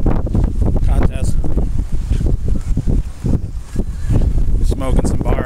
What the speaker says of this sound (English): The wind's kicking pretty hard.